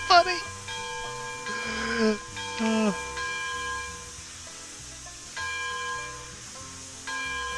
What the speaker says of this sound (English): I can pull on the string all day to ring that bell